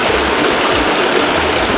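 A backwoods creek rushes steadily in a dense, loud, unbroken wash of flowing water, close at hand, with no voices.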